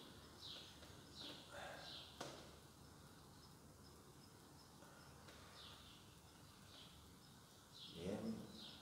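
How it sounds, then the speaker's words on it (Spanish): Birds chirp and sing outdoors at a distance, short repeated calls scattered through steady background hiss, with a brief closer burst near the end and no talking. "se escuchan los pájaros aquí"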